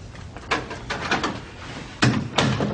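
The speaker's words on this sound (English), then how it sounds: "Close the door, sit down." An office door closes amid scuffs and footsteps, with two heavier thuds of the door shutting and settling standing out from a moderately loud, busy room background.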